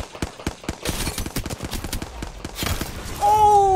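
Rapid gunfire in the shooter Apex Legends: close, loud bursts of sharp shots in quick rhythm with uneven spacing, ending in a ringing electronic tone.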